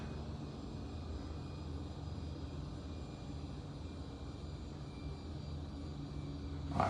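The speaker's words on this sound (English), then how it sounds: "let's push the button and we'll hear the generator start" An Armor/Haughton traction elevator motor-generator at the Glass Centre in Toledo, Ohio gives a steady, loud mechanical hum with a faint whine. It runs evenly throughout and swells slightly at the very end.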